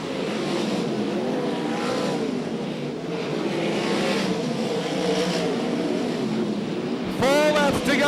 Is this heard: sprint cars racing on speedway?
yes